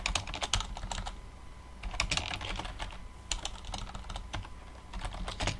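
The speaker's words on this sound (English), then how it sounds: "like let me write my name" Typing on a computer keyboard, rapid irregular bursts of soft key clicks with brief pauses between words, close and fairly quiet.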